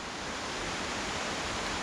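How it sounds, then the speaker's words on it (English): Steady broadband roar of Grogan Creek Falls in North Carolina, a continuous rushing water wash heard from nearby on a trail approach, with no voices over it. "so we're coming up on Grogan Creek Falls here."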